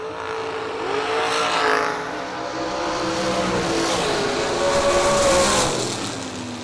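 A dragster launches at a drag race, its engine roaring up in pitch, easing off briefly, then surging again. The loud run sits over open-track ambience with no voices.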